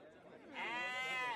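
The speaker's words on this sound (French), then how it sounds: "Dans le secteur des animaux, on y vend moutons et chèvres." A single sheep or goat at a rural livestock market in Morocco's Draa Valley gives one close, clear bleat that swells and holds for under a second.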